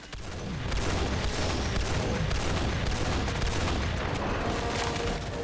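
Sustained rapid gunfire roars in Helldivers 2 as a turret keeps firing while it turns, a dense, loud, continuous barrage of shots with booms mixed in throughout.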